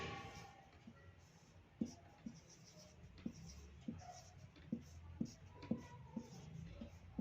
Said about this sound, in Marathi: मी इथे लिहिते